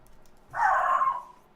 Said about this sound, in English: That is a vicious guard dog you have there.